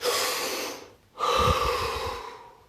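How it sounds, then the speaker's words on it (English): A deep breath taken during a guided relaxation session, heard as a long, close breathy rush, then a short pause and a second strong breath with a slight snorting, nasal edge. "Deep breath."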